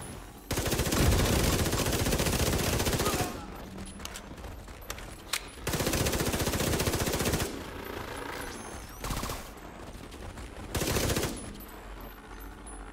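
Gunfire in The Division 2 video game: long sustained bursts of loud automatic fire alternating with shorter volleys and quieter gaps.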